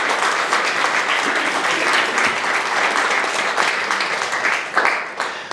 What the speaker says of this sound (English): please give contestant number 4 another round of applause